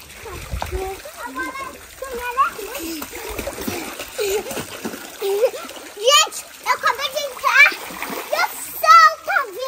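People splash into a lake at a family home, with loud, repeated splashes and churning water bursts throughout, mixed with excited children's voices and adults talking and shouting nearby.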